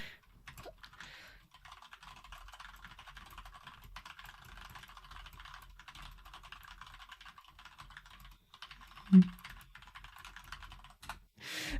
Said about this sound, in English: let me type that to him